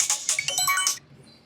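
A mobile phone ringtone announcing an incoming call chirps loudly and briskly for about a second, then cuts off into near silence.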